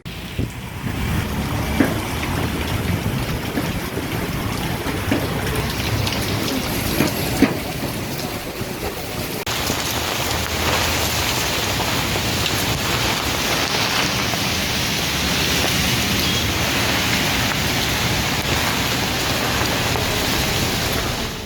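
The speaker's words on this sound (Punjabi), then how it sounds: "ਪੰਜਾਬ ਵਿੱਚ ਕੱਲ ਸ਼ਾਮ ਤੋਂ ਹੀ ਰੁਕ-ਰੁਕ ਕੇ ਹਲਕੀ ਤੋਂ ਦਰਮਿਆਨੀ بارش ਹੋ ਰਹੀ ਹੈ" A steady, even hiss of light to moderate rain falls continuously, with a faint hum of distant traffic underneath.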